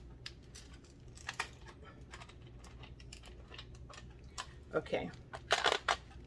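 A pepper mill grinds a five-blend peppercorn mix with rapid, irregular crackling clicks that grow louder and denser toward the end, close up, with a brief spoken word at the start.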